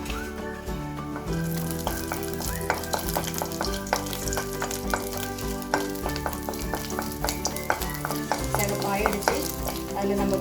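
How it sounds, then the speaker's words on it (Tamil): Coconut pieces frying in oil for a pirandai chutney, a steady close sizzle with stirring and occasional utensil clinks running throughout, with tonal ringing layered over it. "அதே எண்ணெயில் நம்ம கட் பண்ணி வச்சிருக்கிற தேங்காய் துண்டுகளை அதில் போடுறோம்"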